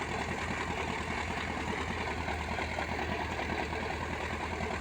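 A small tractor engine idles and chugs steadily in a field, a continuous low rumble with no voices.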